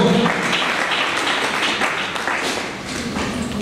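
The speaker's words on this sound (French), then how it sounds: "Acclamez très fort pour le Seigneur" A church congregation claps loudly and steadily for the Lord at a mourning service, a dense continuous wash of applause throughout.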